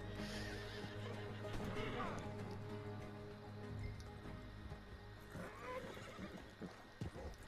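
Horses neigh and whinny in the Red Dead Online video game, with clip-clopping hooves and voices over a steady bed of game music and ambience throughout.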